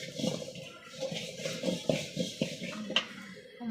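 Cumin seeds dry-roasting in a pan at home, heard as a soft scratchy rustle with light clinks and scrapes of a spoon stirring, fairly quiet and free of speech.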